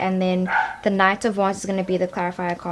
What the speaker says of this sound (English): I'm so sorry about the dogs barking.